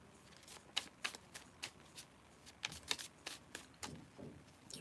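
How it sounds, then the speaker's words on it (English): Crisp, rapid riffles of tarot cards being bridge shuffled in several short bursts, close and fairly quiet, with brief pauses between each run. "we shall do the Bridge Shuffle"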